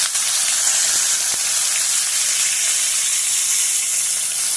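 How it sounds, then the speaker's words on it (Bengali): Chopped onion with cumin seeds hitting hot oil for a Bengali egg curry, a loud, close, constant hiss of frying with a couple of faint knocks and no talking. "কুচো করে নেওয়া যে পেঁয়াজটা ছিল সেটা আমি তেলের মধ্যে দিয়ে দিয়েছি।"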